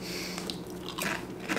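Close, loud crunching and chewing of Doritos Tangy Pickle corn chips, a short run of crisp bites and mastication with no voice over it.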